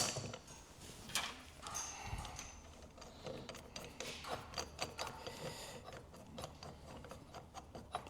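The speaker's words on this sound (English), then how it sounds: "I'm going to put my bearing splitter on there" A bearing splitter being fitted behind the pinion head of an 80 Series Land Cruiser front differential, heard as a close, quiet run of metallic clinks, taps and ratcheting clicks in an uneven rhythm.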